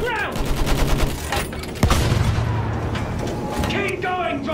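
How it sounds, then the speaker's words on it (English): Machine gun fire in the Battlefield 1 campaign, rapid bursts of repeated shots with a sharp blast partway through, loud and close, while voices shout over the battle. "Use the MG! Sweep the ground!"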